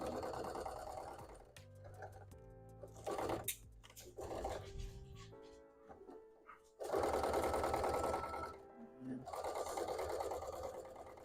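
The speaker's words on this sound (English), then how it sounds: "Now we're gonna sew up this, the hat part" A sewing machine stitches a plush Umbreon hat in close, whirring bursts that start and stop. Between the runs come quieter handling sounds and some background speech.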